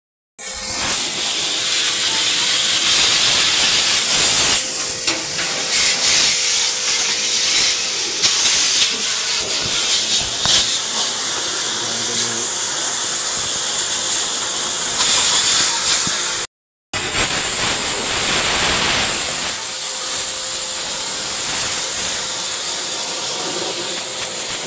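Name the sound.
water spray cleaning a Midea split-type inverter air conditioner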